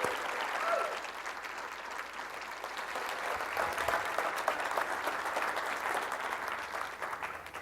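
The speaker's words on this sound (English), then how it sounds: "Go ahead and give him a round of applause" Steady, dense applause from a conference audience for a speaker at an e-commerce talk, continuous clapping throughout at an even level.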